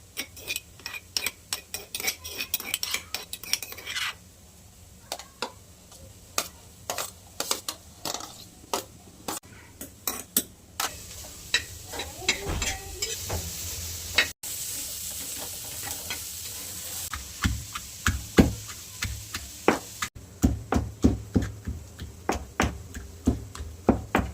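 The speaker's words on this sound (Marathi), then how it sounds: "चटणी खाली दोडका आहे ना आपण असं कुटून घ्यायचं" Ridge gourd is pounded coarsely by hand for a chutney, producing a long run of repeated sharp knocks and thuds at an uneven rhythm, close and fairly loud, with occasional scraping between strikes.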